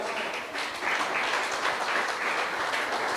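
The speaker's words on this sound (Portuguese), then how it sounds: "uma salva de palmas ao Senhor?" A church congregation applauds the Lord, dense steady clapping from many hands filling the room throughout, moderately loud and continuous.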